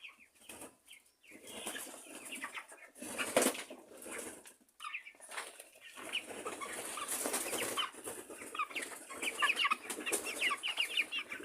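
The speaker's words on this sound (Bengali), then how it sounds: "মেডিসিন মুক্ত মুরগি অনেক লাফালাফি করে" Medicine-free chickens flapping and scuffling as they jump around, with bursts of wing beats and occasional clucks, close and fairly loud with brief quieter gaps.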